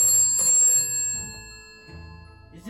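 A telephone bell in a manor house gives a short loud trill and then keeps ringing faintly in the background behind movement and low sounds.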